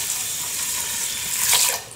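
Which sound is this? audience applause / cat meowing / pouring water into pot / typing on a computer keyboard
pouring water into pot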